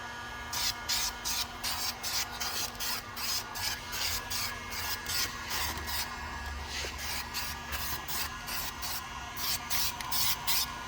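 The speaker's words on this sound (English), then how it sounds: "we're going to start laying down some paint. We'll just do it just like how we did with the primer. Light coats" Spray painting a car wheel being refinished for curb rash, after priming: repeated short hissing aerosol bursts in a steady rhythm of light coats, close and fairly quiet, without speech.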